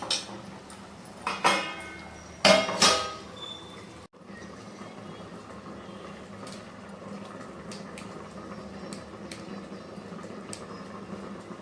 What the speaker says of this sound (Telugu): అయితే మన చేపల కూర అయితే ఉడుకుతుంది